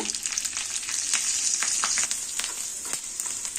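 Steady crackling sizzle of a rasam tempering, with asafoetida, garlic, dried red chillies and curry leaves frying in hot oil, with dense popping bursts throughout and no voices.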